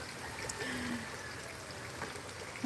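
Steady rain pouring during a cyclone in a Cuddalore district village, a continuous broadband wash with faint trickling water, alone and fairly quiet throughout.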